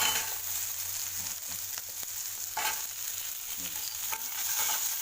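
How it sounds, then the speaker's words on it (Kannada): Tomatoes are stirred into upma frying in a pan, a continuous close sizzle broken by repeated scraping strokes of stirring, with a faint low hum in the background. "ಇವಾಗ ಸ್ವಲ್ಪ ಟೊಮಾಟೊ ಹಾಕೋಣ"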